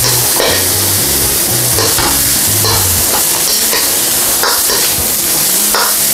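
Indomie noodles stir-fried for yakisoba, sizzling loudly and steadily in a hot pan, with the scrape and clatter of stirring throughout.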